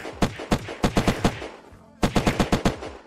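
Rapid gunfire in the survival video game Unturned, aimed at zombies: two bursts of sharp, close shots, about seven then six, split by a short pause.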